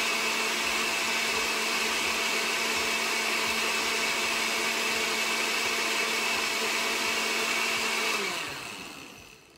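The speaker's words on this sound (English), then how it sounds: "I'm gonna put my blender on for a second." A kitchen blender runs steadily, whirring loudly while it blends a chaga mushroom decoction tonic with lion's mane, rose hip and dandelion root, then winds down and stops near the end.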